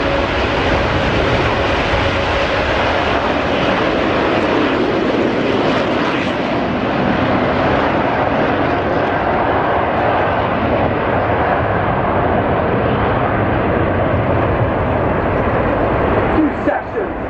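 Military jet formation roaring through its takeoff run at the RIAT air show, a loud continuous broadband engine blast that holds steady throughout, with a voice talking over it.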